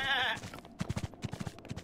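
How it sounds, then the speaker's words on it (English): A goat bleats in the Zelda Breath of the Wild video game, one quavering bleat at the start followed by a rapid series of soft, rhythmic thumps. "A goat"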